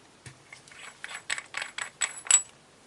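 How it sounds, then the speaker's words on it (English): Small, quiet ratcheting clicks come from part of a TAIR-11a camera lens being turned and unscrewed. The clicks come in quick, uneven bursts that grow a little louder. "And you unscrew this part."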